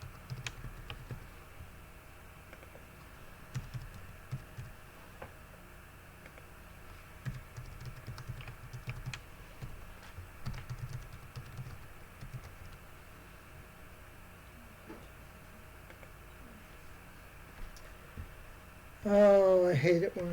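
Typing on a computer keyboard while filling in an online sign-up form: steady, close clicking keystrokes running throughout, with a brief louder burst near the end.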